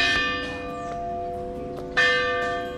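A large church bell on the main square of Paraty's historic centre, Brazil, rings out with a lingering resonant hum, then another strong strike sounds near the end, loud and close.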